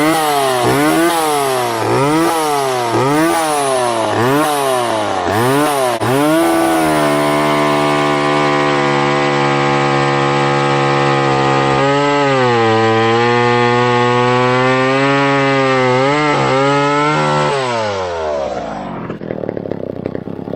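Mac 10-10 chainsaw cutting wood on a sawbuck: engine revving up and down in rhythmic surges, then holding a loud, steady high whine through the cut before winding down at the end.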